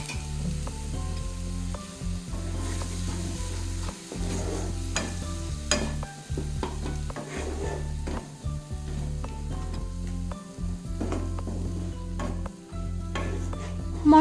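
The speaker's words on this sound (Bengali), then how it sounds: "সামান্য একটু জল দিয়ে এটাকে ভালো করে মশলাটাকে কষিয়ে নিতে হবে।" Ground spices with cumin powder fry in a pan with a splash of water for chana masala, giving a steady close sizzle under repeated scraping stir strokes and light clinks of the spoon.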